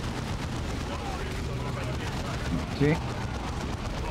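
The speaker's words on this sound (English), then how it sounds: "The suppressive fire from my heavy bolter will keep the greenskins pinned." Heavy bolter gunfire rattles on in Dawn of War 2, a dense, continuous stream of rapid shots and blasts of battle noise at moderate level, with a brief spoken word near the end.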